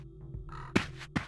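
Birds cawing in the Legacy of Kain: Soul Reaver 2 game world, two sharp crow-like caws about half a second apart, fairly loud over a low ambient drone.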